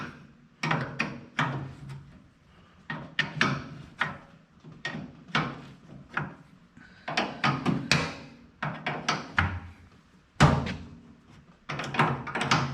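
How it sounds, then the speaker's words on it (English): Metal clanks and thunks come in irregular clusters as a fuel tank strap is worked loose on a Moline tractor, close and sharp against a quiet background. "Going to loosen the tank strap."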